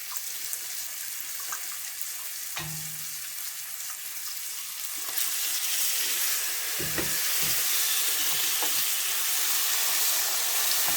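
Chopped onion frying in melted fat in a cooking pot for a lentil dish, a steady broadband sizzle that swells louder after the midpoint, with a few soft utensil knocks and no voices.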